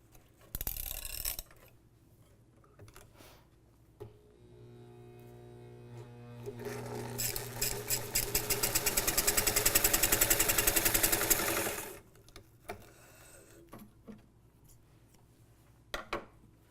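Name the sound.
Johnson ruffling machine running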